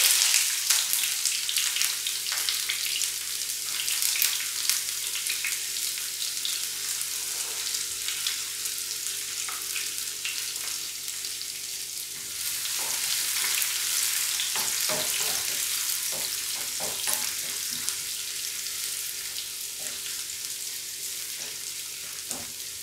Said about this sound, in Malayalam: കടുക് പൊട്ടിയിട്ടുണ്ട് നമുക്കതിലേക്ക് കൊച്ചുള്ളി അരിഞ്ഞിട്ട്